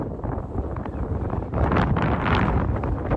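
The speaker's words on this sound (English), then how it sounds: "Well, the tents are up. A bit breezy." Gusty wind roars at a wild camp in the mountains with the tents pitched, a loud, continuous buffeting rush that swells stronger partway through, with no voices.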